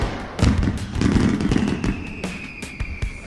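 A rapid burst of crackling pops and thuds like firecrackers going off together, close and loud, with a thin whistling tone running through the middle.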